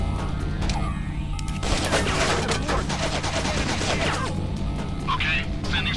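Turret gunfire from the video game Infernal: dense bursts of rapid automatic shots fill the clip with steady crackling and booms, loud and continuous, with game voices and ambient noise mixed underneath.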